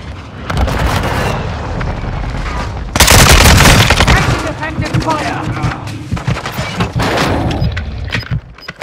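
Rapid automatic gunfire and heavy bursts from a shooter video game crackle loudly and close, with a dense volley midway and scattered shots after, a voice calling out over the din.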